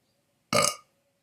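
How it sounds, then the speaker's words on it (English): A single short, loud burp rises out of near silence and fades within about a third of a second, heard alone with nothing else around it. "This burp,"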